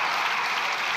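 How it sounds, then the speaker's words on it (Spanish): Deputies in a parliamentary chamber applaud in a dense, steady burst of many hands clapping together, loud and sustained throughout without breaks. "si hasta incluso están aplaudiendo diputados y diputadas de su grupo parlamentario"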